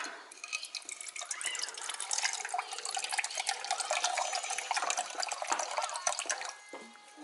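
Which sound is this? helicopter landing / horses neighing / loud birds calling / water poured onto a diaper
water poured onto a diaper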